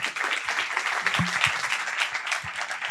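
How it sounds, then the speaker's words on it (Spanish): Audience applause for a marketing guest at a talk-show taping on transmedia storytelling, a steady dense wash of clapping from a live studio crowd, with a faint low voice briefly underneath. "Un aplauso."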